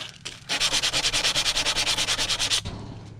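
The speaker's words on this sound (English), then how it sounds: "using a variety of techniques for sanding" Wood sanded by hand with quick, even back-and-forth strokes, a dense rhythmic rasp of about twenty passes close up, starting after a brief pause and stopping abruptly near the end.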